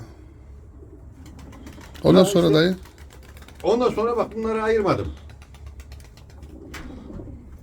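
Pigeons coo softly and low in the background, under and between a man's nearby speech.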